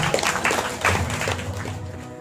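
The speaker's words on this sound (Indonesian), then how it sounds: "Mari kita tepuk tangan Bapak Ibu untuk kita semua." Applause from an audience at a thanksgiving prayer and committee dissolution gathering of PKMH in Siak Regency, a steady rush of claps over a low hum, fairly loud and lasting the whole short stretch.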